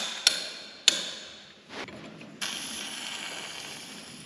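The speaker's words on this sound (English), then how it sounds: "I'm gonna have to hammer it" Two sharp metallic hammer strikes ring out close by in a workshop, hammering to break a stuck part loose, followed by a scraping clunk and a sustained mechanical hiss.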